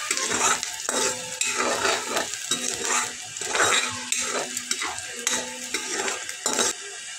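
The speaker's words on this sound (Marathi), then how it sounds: "हा कांदा जरा तेलावर लालसर करून द्यायचा आहे." Finely chopped onion fries in oil in a pan for a Kolhapuri dish, with a steady sizzle and repeated scraping stirs of a spatula in an uneven rhythm, close and fairly loud, without speech.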